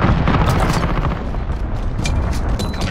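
A cruise missile explosion in Call of Duty Modern Warfare, a loud, dense rumbling blast with crackling bursts sustained for a few seconds.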